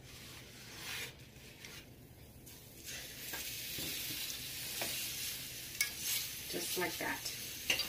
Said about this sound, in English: So now I have my meat over here. I'm gonna go ahead and put it into the pot.